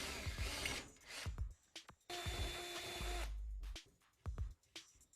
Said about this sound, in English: Drill in from both sides to avoid splitting the wood.